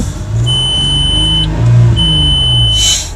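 A stock 1999 Audi A6 idles on E85 with its idle air control running, a steady low engine drone holding throughout with a thin, high-pitched tonal whine riding on top.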